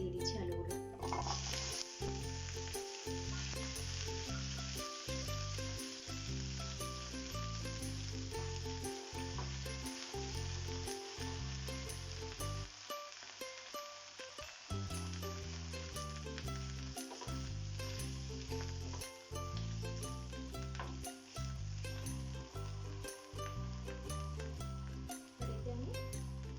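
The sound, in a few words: potatoes frying in hot oil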